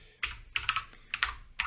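Quick bursts of typing on a computer keyboard while writing Pascal code, several clustered keystroke runs with short pauses between them, close and fairly quiet, no talking.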